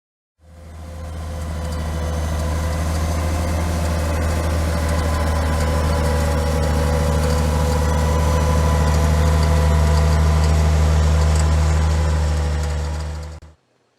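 A tractor engine idles steadily on a farm, a deep, even rumble with strong low tones that holds at a constant level for about thirteen seconds before cutting off.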